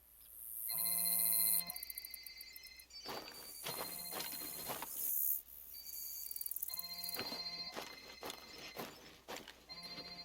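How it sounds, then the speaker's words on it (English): Electronic telephone rings in a video game trill in repeated bursts, several phones overlapping at moderate volume, with faint clattering noises in between. "Can you hear the phones ringing?"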